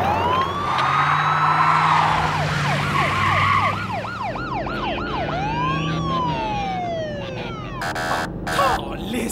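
A police car siren wails in rising and falling sweeps, then shifts to quicker yelps, heard alongside a Quebec rap track with voices over it.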